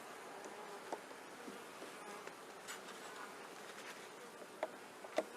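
Honeybees hum in an opened hive under inspection, a faint steady buzz with a few brief nearer passes standing out.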